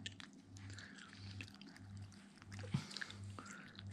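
A dog chewing raw fish outdoors, with soft wet chewing and biting sounds close by over a low steady background hum, no speech.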